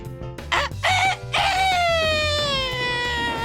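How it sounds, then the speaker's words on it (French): A cartoon rooster crows at full force, several choppy rising bursts that end in one long, loud wavering cry falling in pitch, with no speech over it. "le coq se mit à chanter à plein poumon"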